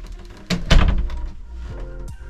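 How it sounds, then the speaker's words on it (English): A camper bathroom door in a Class C motorhome clips into place at the top: a soft scrape, then one dull, fairly loud thunk, followed by faint rattles and a small knock near the end. "you can simply open the bathroom door and it clips in at the top"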